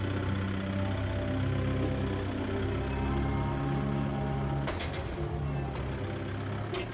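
A Kubota MU5502 tractor towing a water tank creeps down a slope in low gear, its engine holding a steady, close, throbbing hum with a few brief rattling bursts near the end.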